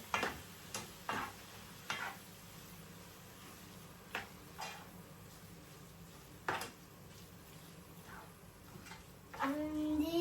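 Small squid pieces sautéing in a pan for stuffed squid, with scattered sharp clicks and scrapes over a quiet sizzle and a brief voice at the end.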